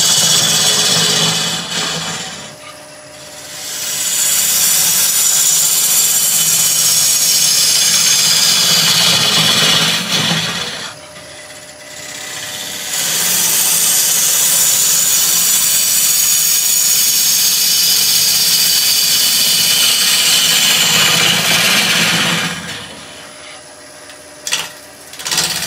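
A wood lathe spins a natural-edge vase at 1000 rpm while a gouge cuts, giving long stretches of loud, hissing, scraping shavings noise broken by short, quieter pauses where the motor hums alone.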